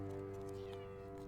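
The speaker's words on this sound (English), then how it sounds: "Meow, kitty cat." A cat meows in a sustained, drawn-out tonal cry close by, loud and continuous for over a second without speech.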